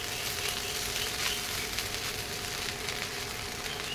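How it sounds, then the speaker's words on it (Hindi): Garlic rice frying in a pan, a continuous moderately loud sizzle with a crackling hiss throughout and no voice over it. "लगातार मिला कर हमें इसे भूनते रहना है।"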